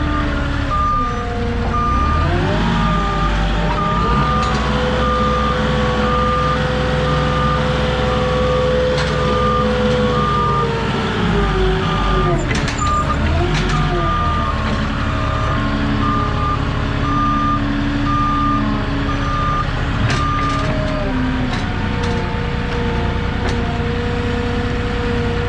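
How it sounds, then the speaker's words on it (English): A truck backing up down a driveway sounds a steady, loud reversing beeper that repeats throughout, over a continuous idling engine rumble with no talk. "And then back the truck up some more."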